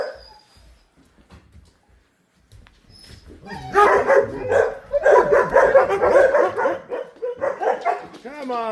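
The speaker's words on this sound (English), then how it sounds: "Come on, puppies." Several dogs bark and yip loudly in quick bursts as the puppies are let out of the house on an icy day, with a person's voice mixed in.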